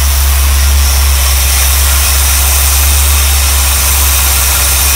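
A 1976 Chevrolet Corvette C3 idles close by after sitting unused since 2004, a loud, steady low rumble with constant mechanical vibration and no voices.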